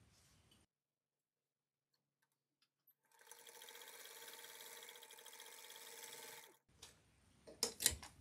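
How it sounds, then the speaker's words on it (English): A domestic sewing machine stitching quilt pieces together runs in one steady, rapid mechanical burst of about three seconds after a silent pause, then stops, followed by a few louder handling clicks and knocks. "I'm at my sewing machine and I'm ready to sew my pieces together."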